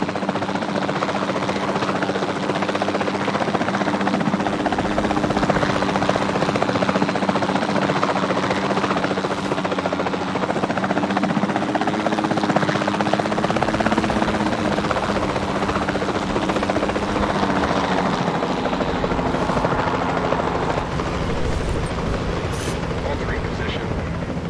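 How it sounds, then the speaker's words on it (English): Helicopter in Jurassic World Evolution 2 flying steadily, a loud continuous rotor thrum and engine whine that holds without a break. "Let me just take direct control of the chopper and do it myself."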